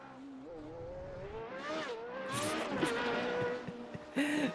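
A Formula Renault 3.5 race car at Monza in the iRacing sim howls through the gears with rising engine pitch, brief tire squeals and a sharp downshift burst near the end.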